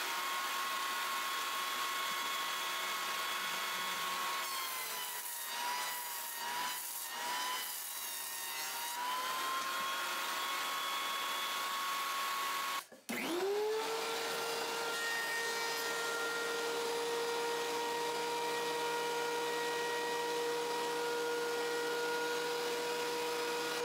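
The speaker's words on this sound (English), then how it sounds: "I run one of the glued up sides on the joiner before running the opposite side on the planer after" A jointer and then a planer mill glued-up pallet hardwood: a loud, steady machine whine and roar that briefly cuts out midway, then spins back up to a sustained drone, with no talk.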